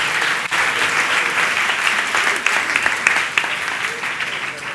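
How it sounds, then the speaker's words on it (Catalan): An audience at a lecture breaks into loud, sustained applause, many hands clapping densely with a few sharper claps standing out, and a voice briefly heard within it. "Un aplaudiment"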